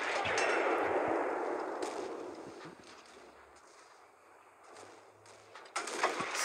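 A single tank cannon shot from an E 50 M in a tank video game fires with a sharp blast and a decaying roar, followed by faint mechanical clanks and a quieter closing thump.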